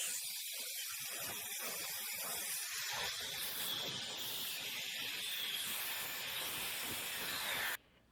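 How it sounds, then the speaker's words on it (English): Dyson Airwrap blowing hot air through hair, a steady loud broadband hiss with slight shifts as the stream moves over the section, then cutting off abruptly near the end. "So I'm just gonna blow dry this section as well."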